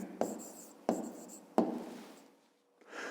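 Pen writing a math answer on paper, three short scratchy strokes spaced evenly and heard up close, then a quiet pause and a final soft scribble.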